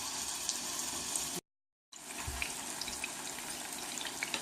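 Meatballs frying in oil in a pot, a dense steady sizzle with crackling pops that briefly cuts out to silence and then resumes with a low thump as more go in.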